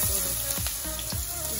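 Chopped onions sizzle in hot oil in a kadai while prawn thokku is being cooked. A steady, dense frying hiss runs throughout, with a few faint stirring knocks.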